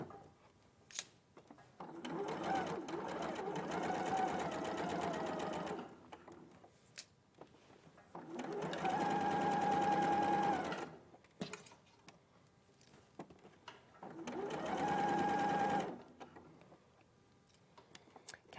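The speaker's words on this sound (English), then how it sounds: "I'm just going to take my time and sew, taking out the pins as I go." A sewing machine stitches fabric in three steady runs of several seconds each, broken by short pauses, with faint clicks between runs and no talking.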